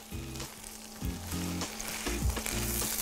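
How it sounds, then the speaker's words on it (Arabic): Chicken fajita strips and vegetables stir-fried in a pan, a steady loud sizzle with repeated scraping stirs at a close, even rhythm throughout, no voices. "شوحها كويس بقى ونسيبهم مع بعض يدبلوا شويه لحد الخضار ما يدبل شويه"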